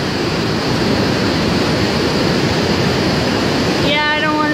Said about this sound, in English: The river is so high up.